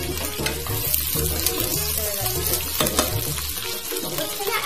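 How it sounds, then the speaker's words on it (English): Onions and garlic cloves hit a hot soup pot and sizzle continuously, a dense, close crackle with occasional stirring clatter, no voices. "So this is going to sizzle."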